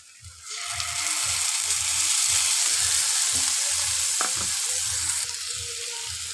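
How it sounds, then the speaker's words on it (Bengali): Spices fry with deep-browned onions in a pan, a loud close sizzle that swells quickly and holds steady, with a regular low rhythmic pulsing beneath and a couple of brief stirring clicks. "মশলাটা ভালো করে কষে নেব"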